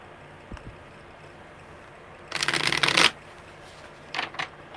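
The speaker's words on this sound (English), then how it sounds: "one more good shuffle, because I did not like that one" A deck of tarot cards is riffled in one quick, crisp burst of rapid flutter, followed by a couple of softer shuffling flicks against a quiet room.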